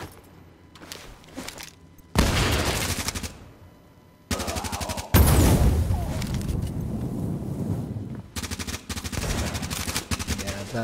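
A .44 fires at snipers in the Tom Clancy's The Division video game, with loud, close bursts of gunshots and rapid volleys broken by short pauses, plus more shooting in the background.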